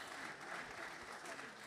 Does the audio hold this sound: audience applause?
yes